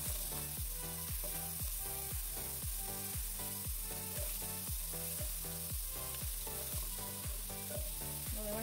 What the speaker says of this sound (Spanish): ahora le voy a poner todos los vegetales que piqué en trocitos y voy a revolverlo otra vez